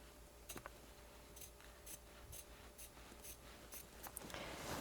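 Small scissors snip quilt fabric several times in quick, irregular cuts, close and fairly quiet, with faint rustling of material between snips.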